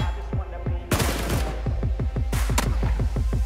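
Rapid gunfire from a sawed-off shotgun in the video game PUBG, a dense burst of sharp repeated shots with a few louder blasts standing out, close and loud throughout.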